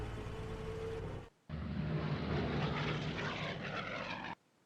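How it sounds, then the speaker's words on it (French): A light bomber's propeller engine drones steadily in the Sudden Strike game, cutting out briefly partway through before resuming at full loudness. "J'envoie la RAF. J'envoie le bombardier léger."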